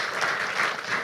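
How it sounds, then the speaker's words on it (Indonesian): Audience applause at an Indonesian digital literacy training event, a short steady patter of many hands clapping in a hall. "Boleh minta tepuk tangannya Bapak Ibu sekalian?"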